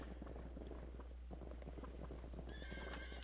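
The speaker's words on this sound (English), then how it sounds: "I am riding on a horse." A horse in the Sacred video game neighs over a steady clip-clop of hooves, with a faint continuous low hum beneath.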